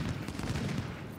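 Dense skirmisher infantry musket fire in the Ultimate General: Civil War video game, a steady rolling crackle of many overlapping shots, continuous and moderately loud throughout.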